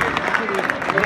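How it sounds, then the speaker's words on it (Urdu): An audience claps at a Mr Lahore bodybuilding contest, with quick, bright bursts of applause mixed with a voice speaking over it. "زوردار تالیوں میں جی"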